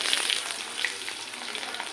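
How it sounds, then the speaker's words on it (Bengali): Garlic and onion sizzle in the oil left from frying an egg, a close, steady frying hiss with fine crackling pops throughout the short stretch. "ডিমটা ভাজার পরে ওই তেলের মধ্যে আমি রসুন, পেঁয়াজ সব দিয়ে দিলাম"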